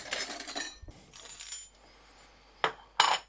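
Metal cutlery clinks and rattles while someone searches for a spoon in a kitchen after making crepes, a few separate bursts of jangling with short quiet gaps and a sharp clink near the end.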